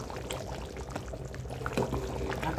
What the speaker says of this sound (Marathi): भाजीला छान उकळी आलेली आहे।